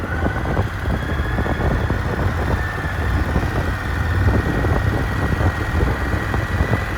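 Indian FTR 1200 Rally motorcycle engine idling steadily, a low constant rumble with a fast, even pulse heard close and alone.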